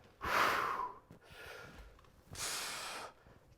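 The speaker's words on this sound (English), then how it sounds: "breathing out as I fly up" Forceful breath bursts during a resistance band chest fly exercise: a strong exhale near the start, a softer breath in the middle and a second loud exhale later, with no talking.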